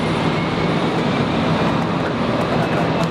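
Fokker 100 jet airliner in special livery departing Brisbane Airport, a loud, steady broadband engine roar that holds constant throughout without talk.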